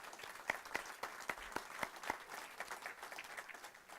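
An audience at a church financial forum applauds a staff member, a faint, distant round of steady clapping that tapers slightly toward the end.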